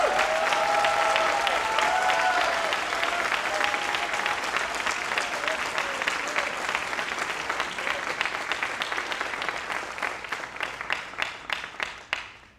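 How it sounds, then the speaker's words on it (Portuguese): Loud, sustained applause from a church congregation at an Easter service fills the space, dense at first and then thinning into scattered claps before fading out. "Forte aplauso."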